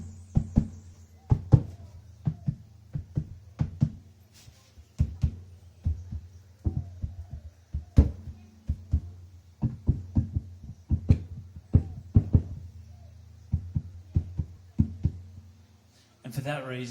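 Wazinator stomp box foot percussion played without EQ, a series of deep thumping beats in a loose groove, close and dry with no talk over it.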